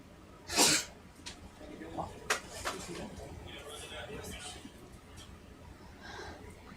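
A single sharp sneeze bursts out aboard a ship during a deep-sea ROV dive, followed by quieter sniffs and murmuring voices over steady background noise.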